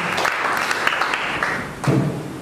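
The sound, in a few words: congregation applause in church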